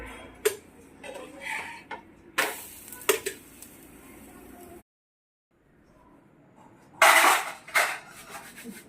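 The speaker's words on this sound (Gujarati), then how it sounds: "વાસણને ઠંડા ઠંડા પાણીએ નવડાવે છે" Dishes and utensils being washed by hand in cold water after a home dinner of pudla, with intermittent clinks, clatters and splashy bursts, a brief silent gap, then a loud burst of rattling and rinsing.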